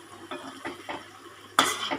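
Beans and onion being stir-fried in a pan, with a few scraping stirs of a utensil against the pan followed by a louder clattering stir near the end.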